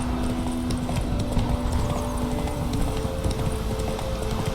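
Roach, Geralt's horse in The Witcher 3, clip-clops along in a steady trotting rhythm of hoofbeats, close and continuous over ambient outdoor game sound.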